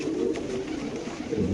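A large male racer pigeon coos in a few soft, throaty bursts close by, with low background murmur and no clear talk.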